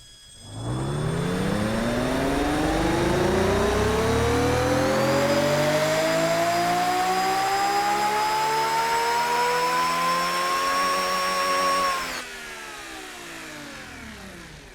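A cast iron hypercar's engine with increased exhaust winds up in one long, smooth rev, its whining pitch climbing steadily for about eleven seconds before cutting off abruptly to a lower idle.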